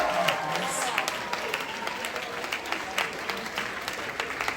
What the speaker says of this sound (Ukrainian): 1400 аплодисменти Тарасу.